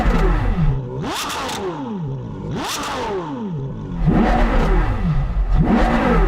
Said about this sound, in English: Oh, look at the way that revs.